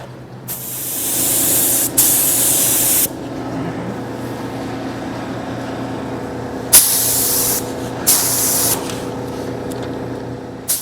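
Spray can laying down light coats of Dupli-Color candy coat finish: a long hiss, then several shorter bursts, loud and close over a steady low hum, with no voices.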